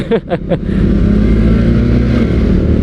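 A single-cylinder Honda CBR150R motorcycle engine blips a few quick revs, then settles into a loud, steady, throbbing idle close by.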